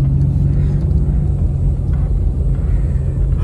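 A steady, loud low rumble of cars passing close by in a busy shortcut lane in Kelantan. The traffic drone is continuous with no clear gaps and no talk.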